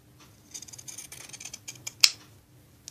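Zigzag pinking scissors from AliExpress cut through fabric in a quiet room, giving a run of soft, rapid snipping crunches, then one sharp, louder closing snip near the end and a faint click after.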